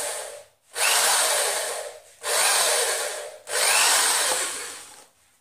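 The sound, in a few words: drilling a hole in pipe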